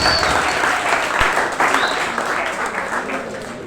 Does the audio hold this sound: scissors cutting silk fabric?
no